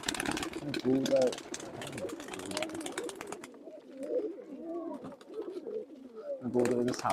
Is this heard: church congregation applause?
no